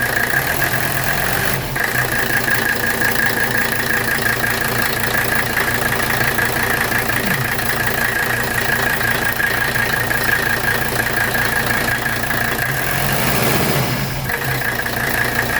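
A 1985 Mercedes 300CD engine idles steadily and loudly, a constant close rumble with a knocking, diesel-like clatter running throughout without pause.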